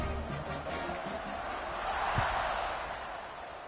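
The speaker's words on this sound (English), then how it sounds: "this crowd is buzzing after that last score" Stadium crowd buzzing in the College Football 26 video game, a steady broad murmur of many voices with a brief swell near the middle and a single sharp thud, moderately quiet throughout.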